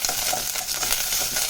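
Onions, green chillies and curry leaves fry in a pan for radish sambar, giving a steady close sizzle with soft scraping as they are stirred.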